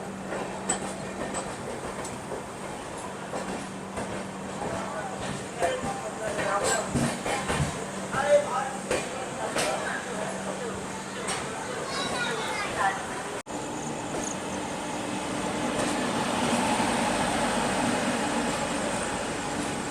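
A train rumbles and clatters steadily while pulling out of Jhansi railway station in India on a wet platform after rain, with wheel noise building; someone talks over it.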